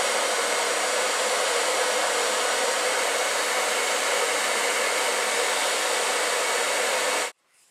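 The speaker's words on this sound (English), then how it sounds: "So we're going to go ahead and turn the hairdryer," A hairdryer blowing hot air onto heat shrink tubing on a Survival Spark fire starter, a loud steady whooshing roar that runs unbroken for about seven seconds and then cuts off abruptly, with no one speaking.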